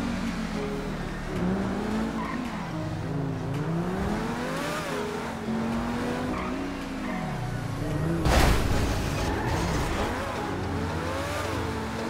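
A Lamborghini in a video game drives with a steady engine drone whose pitch rises and falls through gear changes, loud and close, with a brief sharp burst near the end.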